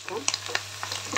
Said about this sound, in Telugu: టమోటాలు యాడ్ చేస్తాం.